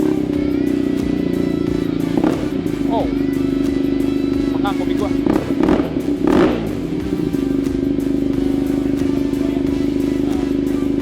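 A BMW R nineT boxer motorcycle engine idles with a deep, steady throb, briefly revving a few times while someone talks nearby.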